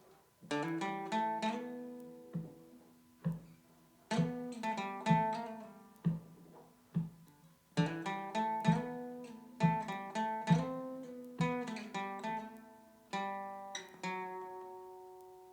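A complete guitar solo played alone, close and clear: clusters of plucked single notes in repeated phrases with sharp attacks and ringing decays, moderately loud, with no talking.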